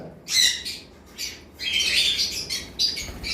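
Harsh, shrill squawks from a yellow-sided conure burst out repeatedly in loud clusters, with a short pause before a longer run of raucous calls.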